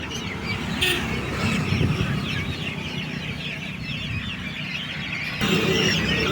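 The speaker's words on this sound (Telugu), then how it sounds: "నాటుకోళ్ళు" Native country chickens cluck and squawk steadily in a busy flock at a poultry seller's, with overlapping calls close by and no talking.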